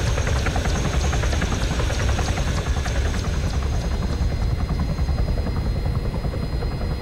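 Helicopter rotor chopping and engine whine heard from inside the chopper in a shooting video game, a steady loud drone with rapid rhythmic blade pulses throughout, no talk.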